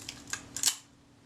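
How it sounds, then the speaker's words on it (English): Film release button on a Kodak Retina IIc camera pressed and springing back, a few sharp close mechanical clicks in quick succession, then quiet. "Check the action of the film release button."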